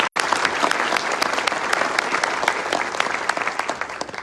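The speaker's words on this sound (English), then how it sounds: "So if we give them applause, please." A room of attendees at a Fort Worth community talk event claps for the sponsors, a loud, even burst of many hands sustained for several seconds with no talking on top.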